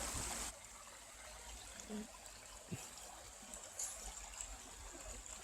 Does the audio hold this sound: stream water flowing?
yes